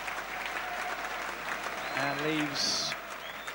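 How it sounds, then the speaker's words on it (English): Football crowd applauding a substitution at a 1992/93 Torquay United match, a steady, moderately loud round of clapping throughout, with a commentator speaking over it. "to a firm round of applause, just acknowledging in particular those from the crowd behind the Swindon end"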